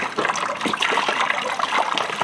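Water splashes and pours steadily over a dog being bathed, a continuous close wash of liquid with small bursts of splatter and no talking.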